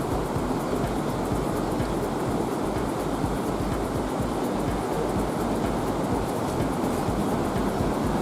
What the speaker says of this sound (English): You can see the waves crashing in the background, just over the balcony here.